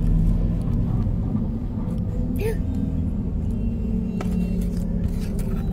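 Road traffic of jeeps, tricycles, motorbikes and trucks passes near a bus, making a constant low rumble with occasional engine swells. Faint voices talk underneath.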